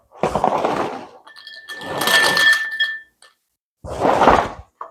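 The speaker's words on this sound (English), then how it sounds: "Pour the crackers in a bowl." Three bursts of dry, rattling clatter as crackers are poured into a bowl, with a brief clink in the middle and short silences between pours.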